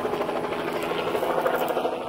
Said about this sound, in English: So we have a chopper above us, so I apologize for the noise